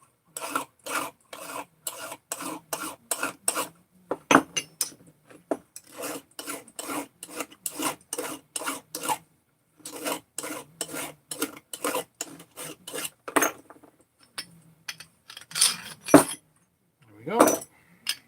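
A hand file rasps back and forth over small cut metal parts being deburred, in quick bursts of close, steady strokes with short pauses between them.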